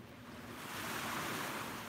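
Gulf of Mexico waves wash onto a beach at sunrise, a steady broadband surf roar with a slow swell that builds midway, mixed with light wind buffeting the microphone and no voices.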